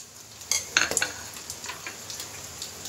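Whole spices (bay leaf, cardamom and cinnamon) sizzle and pop in hot oil for a mutton-stuffed brinjal kurma, with a few sharp crackles early on, then a steady, fairly faint frying hiss and light stirring.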